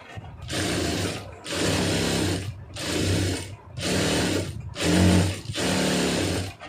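A sewing machine stitches a lining blouse in six evenly spaced bursts of close, loud rattling with short pauses between them. No one talks.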